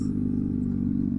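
A motorcycle engine drones steadily at cruising speed on a ride, a close, continuous hum with faint clatter and no talking.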